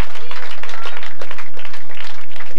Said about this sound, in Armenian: Խնդրում եմ ծափ արեք։